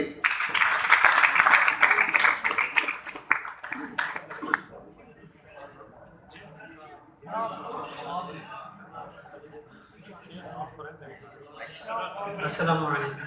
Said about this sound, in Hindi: आपकी तालियों की भरपूर गूंज में